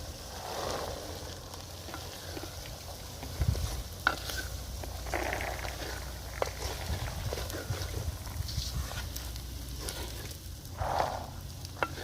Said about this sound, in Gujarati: ચાલો મિત્રો હવે આપણે આની અંદર આપણે ચણા નાખી દઈશું